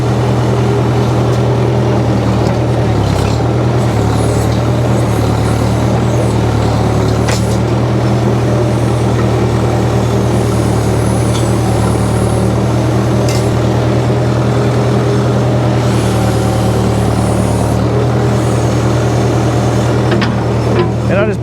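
A 1966 Case backhoe runs through a house teardown with a loud, steady diesel drone and strong low engine harmonics. It keeps on throughout, with occasional clanks and knocks from the work.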